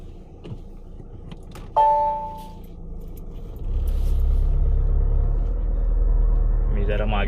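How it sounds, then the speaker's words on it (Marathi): A truck and a state transport bus meet head-on on a narrow winding road, a deep engine rumble swelling and holding loud and close after a short tone, while people talk. "आता हे बघा ह्योच विषय ट्रक आणि एसटी समोरासमोर इली आहेत."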